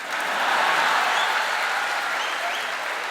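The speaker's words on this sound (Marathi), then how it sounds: "वाजवा टाळ्या वाजवा." A crowd claps through a speech by politician Ramdas Athavale at a Dr. Babasaheb Ambedkar Jayanti celebration in Mumbai. The applause is dense, steady and loud, filling the whole stretch with no voices.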